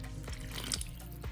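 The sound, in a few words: water being poured into muffin batter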